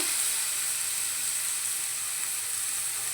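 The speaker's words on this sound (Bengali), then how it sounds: "এই এবার পেঁয়াজটা দিয়ে দেব এই তেলটার মধ্যে" Chopped onion sizzles in hot oil in a pan, a steady bright frying hiss that holds evenly throughout with no voices.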